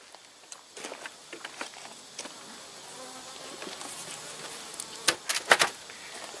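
Honeybees buzz around an open Langstroth beehive, with a low steady hum and sharper buzzes as individual bees fly close past, growing louder near the end.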